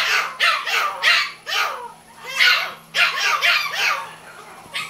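Several pet dogs bark upstairs, loud and close, in a rapid run of sharp, jealous barks and yips.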